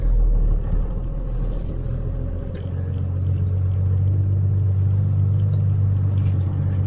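A 1994 Dodge 2500 Cummins diesel truck labors up a snowy hill, its engine a loud, heavy, continuous low rumble that deepens and settles into a steady droning hum after a few seconds, with no talking.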